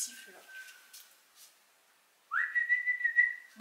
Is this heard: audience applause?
no